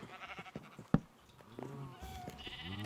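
Goats bleat inside an enclosure in a video game, several short nasal cries spaced across a couple of seconds, with a sharp click partway through and no speech.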